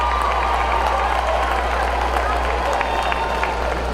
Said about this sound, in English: Let's give everyone, these ladies, a round of applause, everyone.